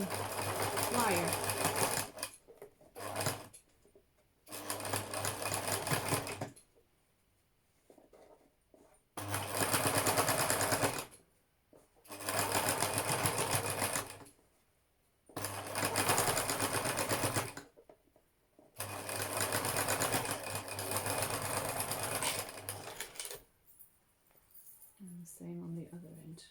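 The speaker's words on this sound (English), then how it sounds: "And sew it quite close to the edge" A sewing machine stitches a fabric face mask close to the edge in repeated bursts of steady whirring, about five runs separated by short pauses, loud and close.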